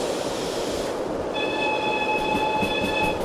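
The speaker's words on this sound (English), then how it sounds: "I feel like I recognize that whistle sound effect from somewhere" A steam locomotive whistle from a Fowler 4F in the Derail Valley train game sounds as a steady, clear tone over a continuous rumble of rolling rail noise, beginning partway in and holding to the end.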